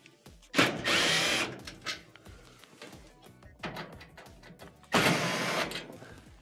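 A power driver whirs in short bursts while backing Phillips head screws out of an oven's top panel, three loud spins with quieter clicking and handling noises between them, close by.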